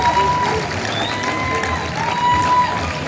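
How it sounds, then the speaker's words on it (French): Crowd at the opening of a tenth-edition international film festival in Kinshasa breaking into loud applause, dense continuous clapping mixed with some cheering and crowd noise over about three seconds. "Je voudrais entendre le tonnerre d'applaudissements."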